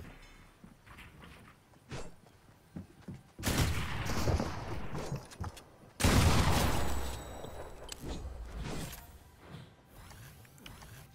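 Gunfire rattles in the video game Fortnite, with scattered distant shots followed by two loud, sustained bursts of rapid firing and explosive noise up close, then fading back to sparse shots.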